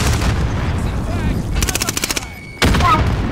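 Rapid automatic gunfire in the video game Call of Duty Modern Warfare: a loud burst of closely spaced shots, then a sharp louder volley after a brief pause, over continuous battlefield noise.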